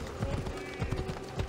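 Horse hooves clip-clop in an uneven rhythm in the video game Assassin's Creed Odyssey, close and steady, with a low hum running beneath and faint background voices.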